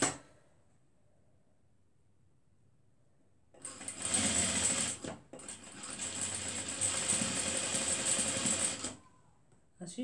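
A sewing machine stitches a skirt seam close by in two steady runs of rapid whirring with a brief pause between them, set between quiet stretches.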